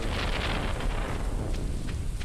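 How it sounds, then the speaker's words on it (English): Thunder in the farming video game Stardew Valley, a loud, continuous low rumble mixed with heavy rain hiss, filling the whole stretch without pause. "This thunder gets me every time."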